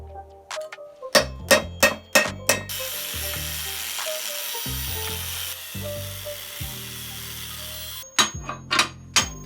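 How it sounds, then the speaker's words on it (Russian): Hammer blows knock bearing cups out of the steering head of a 1948 Harley-Davidson frame, a quick run of sharp metallic clangs, a stretch of buzzing workshop noise, then another burst of close, loud strikes. "начал вырезать все лишнее из стакана и выбил чашки подшипников"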